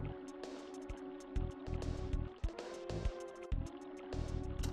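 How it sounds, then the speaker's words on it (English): Waterfall in the video game EarthBound, a dense rushing flow with watery splashes and pulsing, chiming tones mixed in, steady and close with no talking. "You'd think that rock would do more to disrupt the flow of the waterfall."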